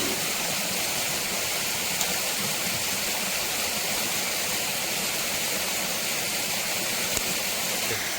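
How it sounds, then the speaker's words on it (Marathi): A steady, loud rush of a waterfall fills the whole stretch, a constant broadband roar with no pauses. "तसा धबधब्याचा कडक आवाज पण येते"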